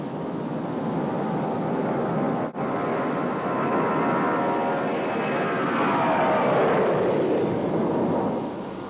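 A Lockheed L-1011-1 TriStar airliner roars steadily with loud, broadband jet engine noise, swelling as it passes, with no talking.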